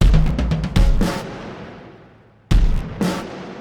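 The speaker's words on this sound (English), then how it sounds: "Then I also layered another drum kit." Two stacked drum kits, one with more room sound, hit together: punchy transients with a long roomy decay between bursts, a pause, then two more heavy hits.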